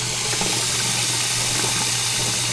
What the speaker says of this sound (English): let's check out the water pressure here